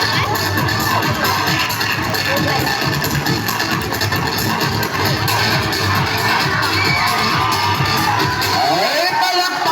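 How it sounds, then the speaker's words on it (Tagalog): Crowd at an acrobats' human pyramid show in a barangay cheering, whooping and shouting continuously, loud and dense, with scattered voices mixed into the din. "Ay, palakpak na naman dyan!"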